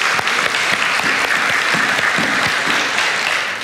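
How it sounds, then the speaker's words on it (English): A church congregation claps for a member's 96th birthday, a loud, dense and steady wash of applause filling the room throughout. "Everybody, let's clap for Miss Irma."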